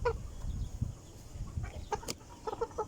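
Backyard chickens, young birds around four to five months old, cluck softly and intermittently in short scattered calls over a low rumbling outdoor background, with no talking.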